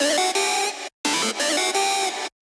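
Synth lead for melodic drum and bass with chorus, pitch and reverb automation, two long bright buzzy phrases with subtle shifts in tone and slight swells, loud and close, with no voices.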